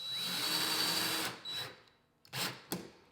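A small screw is driven into a kitchen cabinet with a close power-driver whine that runs steadily, stops, then returns in two short bursts.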